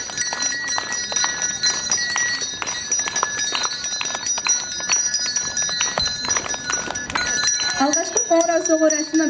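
A hand bell rings at a first-bell school ceremony for first-graders, a bright repeated clanging with steady strikes over crowd noise and an amplified voice, ending in a rising tone near the close.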